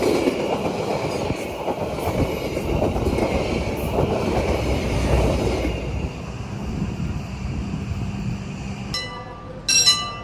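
A train on the Pasundan line rumbles past on the rails with steady, loud clattering and wheel noise that fades after several seconds, followed by brief high metallic squeals near the end.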